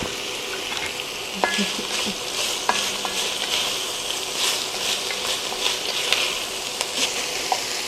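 Onions and peppers seasoned with salt and pepper sauté in a pan for taco soup, a continuous soft sizzle with occasional clicks of stirring utensils scraping through the vegetables.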